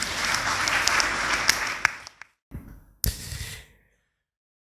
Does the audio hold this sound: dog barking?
no